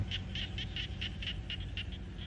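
Frogs croak in the rural Isan countryside of Thailand, a steady chorus of short, rhythmic calls repeating over a constant low rumble, with no voices.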